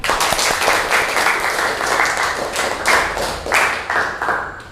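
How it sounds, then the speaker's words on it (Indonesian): Classroom applause in an Indonesian lesson: a steady, dense patter of many hands clapping together for almost five seconds, moderately loud, with no speech over it. "tepuk tangan"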